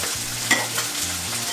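Onions sizzle steadily in a hot pan while grilling for hamburgers, a loud continuous crackling hiss broken by a couple of sharper utensil scrapes, with no voices.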